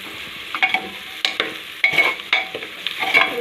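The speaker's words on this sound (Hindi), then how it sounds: "और इसको चलाएंगे।" Pulao base with red chili frying in a pan, stirred in several quick scraping strokes over a continuous sizzle, close and fairly loud, no voices.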